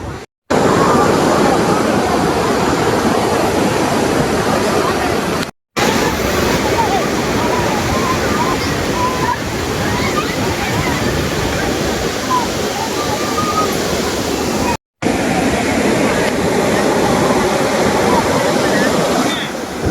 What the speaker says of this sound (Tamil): தண்ணி வந்து கொஞ்சம் சீராக தான் வந்துட்டுருக்கு.